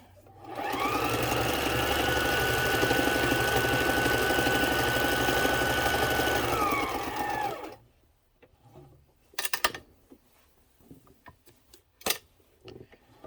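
A Kenmore sewing machine runs a continuous burst of stitching for about seven seconds, a loud, even mechanical whir, then stops, leaving a few faint clicks and handling knocks.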